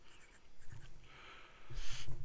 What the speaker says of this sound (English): this is a medium nib, so you will find that it puts down a medium line, and there's no hard starts or skips there